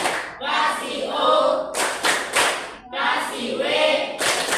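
Classroom chorus of pupils calling out a chant, with sets of quick synchronized claps landing between the chanted phrases, bright and near.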